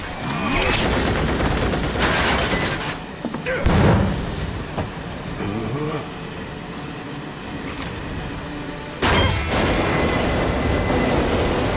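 A moving train rumbles loudly in the Final Fantasy 7 Remake video game, a dense steady roar with clanks and a sudden burst of louder noise near the end, and no voices heard.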